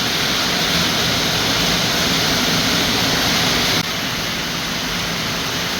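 Heavy rain pouring onto a metal building, a dense, loud, unbroken roar of drumming on the roof that drops slightly in level partway through.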